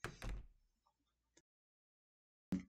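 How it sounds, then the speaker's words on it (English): A door in a video game swings open with a soft burst of creaking and knocking, then goes silent, with a few faint taps and a second short thud near the end. "I gently open the door."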